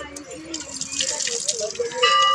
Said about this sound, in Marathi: मंदिरात बाप्पा करायला पाय धू